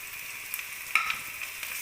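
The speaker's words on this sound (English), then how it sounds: "So we'll keep on stirring and frying for some time." Onions and turmeric powder frying and being stirred in a pan for a banana stem curry, a steady close hiss of sizzling oil with a few soft scraping accents from the stirring, no voices.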